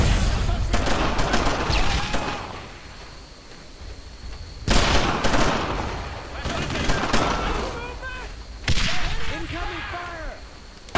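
Bursts of World War II rifle and machine-gun fire from the Brothers in Arms video game crack in clustered volleys with sharp whip-like snaps and ringing echoes, several separate flurries across the stretch, loud and close.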